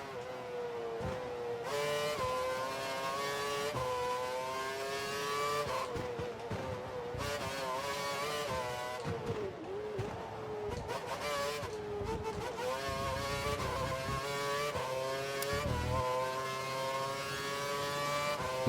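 Formula One race car engines in F1 2012 scream at high revs, the pitch repeatedly climbing and dropping through gear changes, loud and continuous with no voices.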